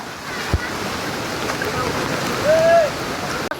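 Rainwater rushes steadily down a stream beside the Jatashankar Mahadev temple in Junagadh during monsoon rain, a loud continuous wash with a short whistle-like tone partway through.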